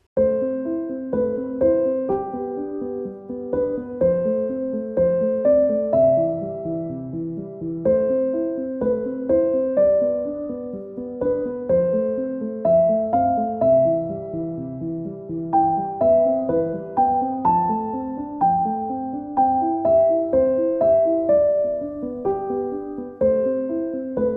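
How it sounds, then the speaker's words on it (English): A calm instrumental deep house-free composed piece where a melody moves over a steady, repeating ostinato figure, played continuously with no voices. "Let's hear the entire piece with the melody, direction, and the ostinato movement."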